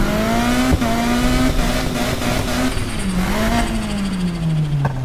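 A car engine in Need for Speed Heat hums steadily at low revs while backing up before a circuit race, its pitch dipping slightly, loud and up front with no talking.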